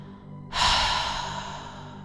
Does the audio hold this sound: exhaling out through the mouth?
yes